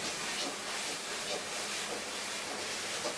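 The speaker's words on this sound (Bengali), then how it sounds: "আদা রসুনটা ভাজা ভাজা হয়ে আসছে।" Ginger garlic paste frying with onion in a pan for a chicken and potato curry, a soft continuous hiss and sizzle, steady and fairly quiet.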